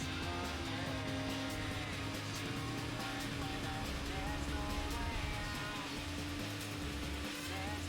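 Daihatsu car engine in the video game Gran Turismo 4 drones steadily at a constant pitch, a continuous strained buzz with faint tire and race noise, heard quietly with no talking.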